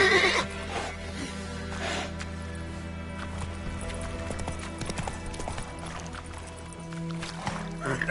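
Roach, the horse from The Witcher video game, whinnies at the start amid clip-clopping hooves, a close, loud neigh followed by steady trotting with a few more snorting calls later on.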